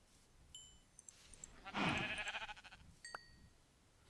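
Sheep bleating in the video game Minecraft: one loud, wavering bleat in the middle, with a few faint, short game sounds around it and no talk.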